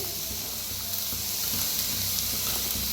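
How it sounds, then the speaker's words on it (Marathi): Onion, cauliflower and cabbage fry together in a pan for momos, giving a continuous close sizzle and hiss with a low steady hum beneath, heard with no talk. "आता कांदा चांगला भाजत आलेला आहे, त्याच्यातच टाकूया आपण फुलगोबी, हे पत्ता गोबी"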